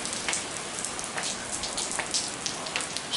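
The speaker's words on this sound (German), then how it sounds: "Es regnet schon den ganzen Tag, wie letzte Woche, eine ganze Woche lang." Steady rain falls and patters on surfaces nearby, a dense continuous hiss with scattered louder drips, no voices.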